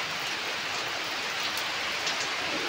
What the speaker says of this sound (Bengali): দেখো অনেক সুন্দর বৃষ্টি হচ্ছে।